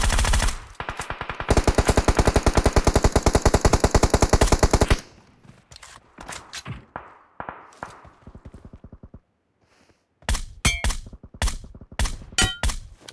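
Rapid automatic gunfire bursts in the PUBG Mobile battle royale game, a long loud volley followed by scattered single shots, then further sharp bursts near the end, with no talking.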